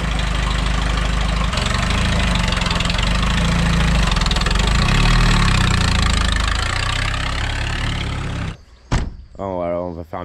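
A Peugeot 205 Turbo engine idles outdoors with a steady, dense rumble, then cuts off near the end, followed by a few brief knocks and a voice.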